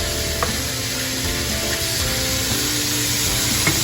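Pork pieces for stew browning in a pan, giving a loud, even, close-up sizzle with a steady hiss and a couple of faint knocks as the meat is moved around.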